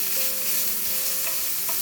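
Garlic sizzles in hot oil with okra and potatoes while being stirred in a pan, a continuous close hiss broken by a few soft scrapes of the spoon.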